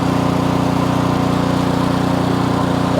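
Ariens snowblower engine running steadily at full throttle, a loud, close, continuous buzzing drone with no talking over it.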